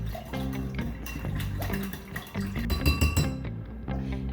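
A spoon clinks repeatedly against a glass while stirring a cornstarch and bouillon cube mixture, giving quick irregular taps and rattles close up with no talking.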